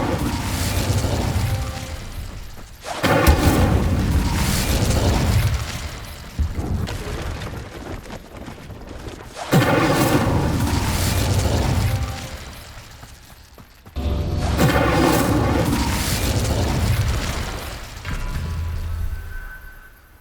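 Incendio fire spell blasts in the video game Hogwarts Legacy, loud roaring bursts lasting a few seconds each, repeated four times with whooshing, crackling texture and short gaps between.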